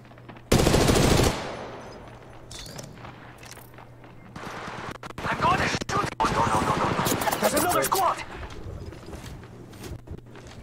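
Gunfire from the video game Apex Legends Mobile comes as a loud opening burst, then scattered shots and rapid automatic volleys amid game effects. Voices talk over the action in places.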